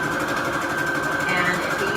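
Sewing machine stitching shabby chic fabric onto receipt paper, right sides together, a steady close mechanical hum and rapid needle rhythm that runs without a break.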